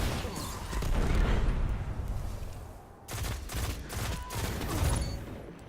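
Rapid bursts of hand cannon fire during a Destiny Crucible match, clustered shots with dense booms and short pauses between volleys, loud and close.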